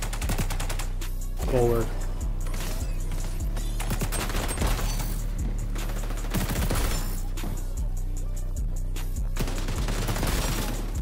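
Rapid gunfire in the video game XDefiant during a gun game mode match, dense bursts of shots running throughout alongside game sounds, with a player briefly speaking.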